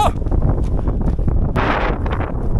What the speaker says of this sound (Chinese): 这儿的风太大了，是一个大风口